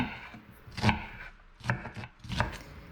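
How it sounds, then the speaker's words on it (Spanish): Three sharp knife chops cut through half a red onion on a board, spaced unevenly and close by with no talking. "Ahora voy a partir la mitad de una cebolla roja."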